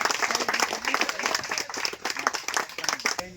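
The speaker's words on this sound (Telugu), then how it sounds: "మన చప్పట్లు ఉత్సాహంగా ఉండాలి" An audience at a local gathering claps enthusiastically, a dense, steady patter of many hands that carries on without a break, with faint voices underneath.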